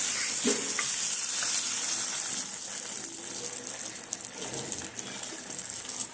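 Fish frying in oil with bay leaves and whole garam masala, a steady close sizzle with scraping and stirring clatter throughout, plus brief running-water sounds.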